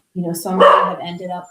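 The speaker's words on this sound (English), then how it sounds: "sorry about my dog" A dog barks and whimpers close by in a home, short yelping bursts overlapping a man's steady speech.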